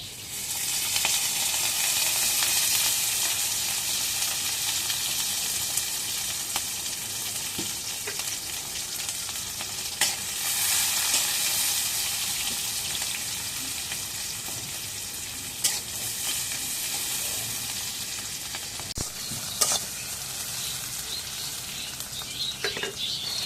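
Food sizzles in oil in a pan with a continuous bright hiss, fairly loud and close, broken by occasional stirring clinks and small pops.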